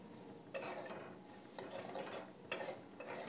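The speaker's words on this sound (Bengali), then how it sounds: "এরপরেও কিন্তু তাড়াতাড়ি করে নাড়াচাড়া করে নিতে হবে, নাহলে কিন্তু এটা পুড়ে যাওয়ার একটা চান্সেস থেকে যায়" Maggi noodles with Maggi masala are stirred in a pan with quick scraping rasps. The strokes come in three or four bursts over a steady background, fairly quiet, with no talking.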